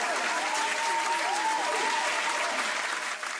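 A round of applause from a sizable crowd, steady dense clapping held at even loudness for a few seconds before easing slightly at the end.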